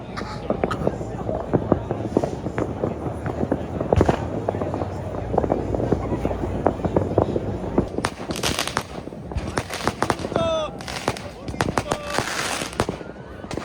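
Fireworks and firecrackers going off in a wild nighttime crowd, a dense run of sharp cracks and booms with bright crackling bursts and whistles later, loud and continuous under crowd noise.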